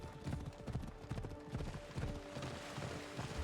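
Horse hooves gallop in a fast, steady clip-clop rhythm in the Assassin's Creed Odyssey video game, close and loud over a constant background bed, with no talk.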